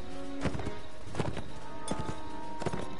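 Horse hooves clip-clop in the Mount and Blade video game during a large battle, a few spaced hoofbeats over a dense, busy background of clatter.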